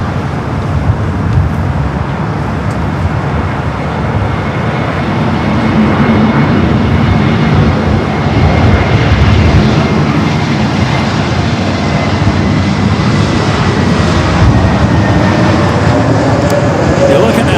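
A Boeing 777 rolls along the south-side runway at Los Angeles airport and turns off at taxiway Alpha 7, its engines a steady broadband roar held at moderate distance throughout.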